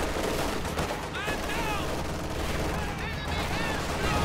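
Gunfire and explosive blasts rattle through a video game battle as a grenade goes off on retreating conscripts at a sandbag position, a dense, continuous barrage with scattered whistling tones and faint voices underneath.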